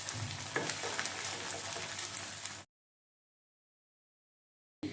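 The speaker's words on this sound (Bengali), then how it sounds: "এবার নারকেল কুচনোটা দিয়ে একটু ভেজে নেব।" Chopped coconut fries in a pan for a Bengali khichuri with a steady, close hiss and crackle that stops abruptly after a few seconds, followed by silence.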